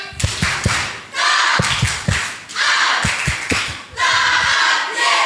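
A church congregation performs a patterned rhythmic clap in repeated sharp bursts, with loud crowd shouts between the sets of claps.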